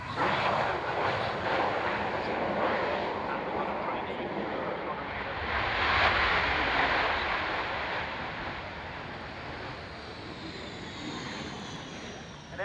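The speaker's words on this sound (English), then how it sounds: "Just watch the tornadoes landing." Panavia Tornado jets landing at the Royal International Air Tattoo 2011 airshow: a loud, continuous broadband roar that swells around the middle and then eases slightly. Voices can be heard over it.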